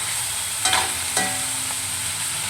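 Chicken sizzles steadily as it fries in a pan, with a couple of brief scraping stirs near the start and middle breaking through the constant hiss.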